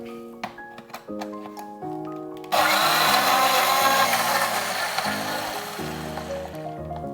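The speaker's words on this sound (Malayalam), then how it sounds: "ആദ്യം ഒന്ന് അരച്ചെടുക്കാം, എന്നിട്ട് വെള്ളം ചേർക്കാം." A kitchen blender grinding curd for lassi starts in short pulses, then whirs continuously at a loud, steady grinding pitch that shifts slightly as the contents churn.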